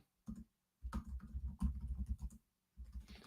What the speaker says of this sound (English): I'm typing something up here real quick.